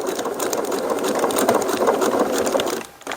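A sewing machine runs a steady, continuous stitch while adding tail loops, its fast mechanical whir close and loud for nearly three seconds before briefly dropping off near the end.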